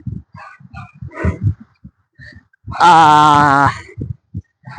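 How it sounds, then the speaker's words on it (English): A dog lets out one loud, drawn-out bark that turns into a howl and lasts about a second, set between stretches of casual conversation. "That dog is pretty loud."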